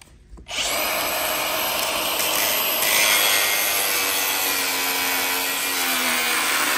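A grinder cuts into a Nissan 350Z transmission part, starting up after a brief quiet moment and then holding a loud, harsh, continuous abrasive hiss close by for the rest of the stretch.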